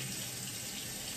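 Water running from a household tap while waiting for it to warm up, a steady close hiss of flowing water with no pauses and no voices.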